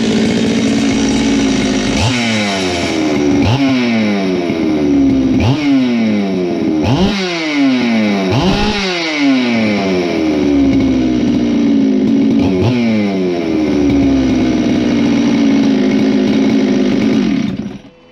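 A ported Jonsered/Husqvarna 390xp hybrid chainsaw runs loud and close, revving up and dropping back repeatedly in sharp bursts before cutting off at the end, with no voices.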